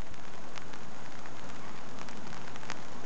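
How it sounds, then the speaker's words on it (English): Steady rain falls outdoors around a turtle resting on a rock, a continuous even patter with occasional sharper drops, moderate and uninterrupted. "Just hanging out on the rock in the rain."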